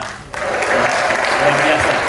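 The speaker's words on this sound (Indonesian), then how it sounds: "Tepuk tangan sekali lagi dong buat Krista." An audience at a press conference for the SIAL Interfood 2025 expo in Indonesia breaks into loud, sustained applause that starts abruptly and keeps going at full strength.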